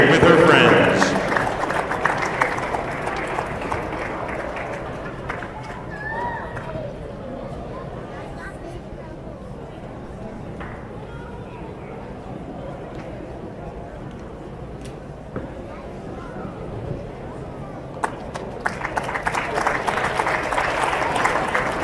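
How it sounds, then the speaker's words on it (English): Crowd in a school gym claps and cheers for seniors and their families at a boys basketball senior night, loud applause at the start fading to murmuring chatter, then swelling again at the close. "big round of applause and congratulations to all our seniors and their families"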